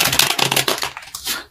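A deck of tarot cards being shuffled by hand, a close, loud burst of rapid papery riffling and slapping that thins out and fades near the end, with no talking over it.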